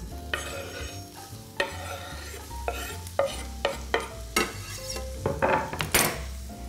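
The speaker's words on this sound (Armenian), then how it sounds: "Իսկ ցողունը մանր կտրատենք եւ տապակենք։" Finely chopped herb stems fry and are stirred in a pan, giving a steady sizzle broken by repeated scraping and clinking strokes of a utensil against the metal, close and moderately loud, with no talking.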